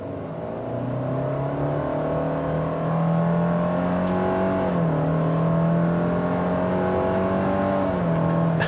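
A 2019 Subaru Forester Touring with a CVT accelerates at full throttle in sport mode, its engine droning loudly and climbing steadily in pitch, with a couple of brief dips where the transmission mimics gear changes.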